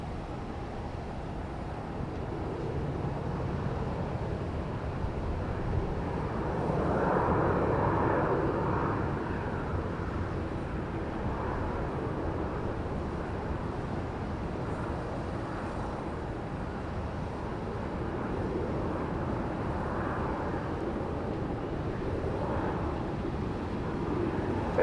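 Southwest Airlines jet taking off from runway 31 right at Dallas Love Field, a distant, faint engine roar that builds into a broad rushing swell around the middle before easing back into steady background noise.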